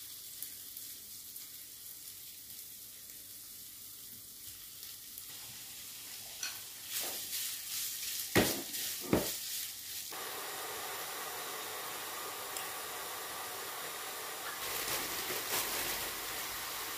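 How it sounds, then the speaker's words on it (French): Ground meat frying with softened onions in a pan, a faint steady sizzle that swells with stirring and a couple of sharp scraping bursts in the middle, then settles into a fuller hiss. "une fois que les oignons ont fondu, sont devenus translucides, je vais venir rajouter ma viande hachée"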